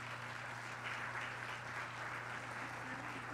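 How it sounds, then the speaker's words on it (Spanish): Steady applause from a crowd, fairly faint and even throughout, with a low electrical hum underneath. "la recibimos con un fuerte aplauso"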